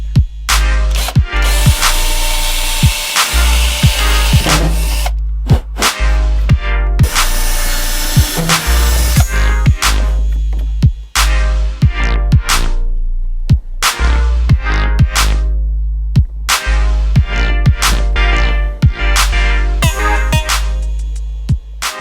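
A power drill whirring in repeated bursts into a Ford Fiesta ST150 bumper, with short pauses and revving between runs, loud and close, with a grinding bite into material.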